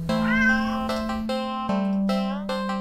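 A black cat in a video game meows several times in quick succession, each call clear and close with a tonal, slightly rising pitch, a steady electronic hum running beneath.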